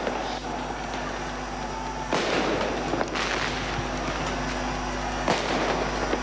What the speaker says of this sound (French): On voit les coups de canon qui sont en train d'être tirés.